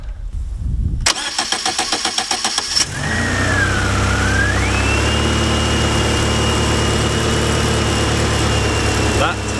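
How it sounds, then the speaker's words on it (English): A Fiat Panda 4x4 engine, just fitted with a new timing belt and water pump, cranks in a quick rhythmic burst, catches and settles into a steady, close, continuous idle. "We're going to try and start it. Alright, give it a whirl."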